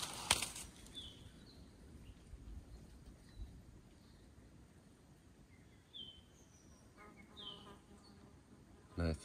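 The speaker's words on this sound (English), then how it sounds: "so many birds chirping away" Birds chirp in a quiet forest in Tasmania, with scattered short high tweets spread across the clip, faint and somewhat distant over a soft background hiss and occasional insect-like buzzing.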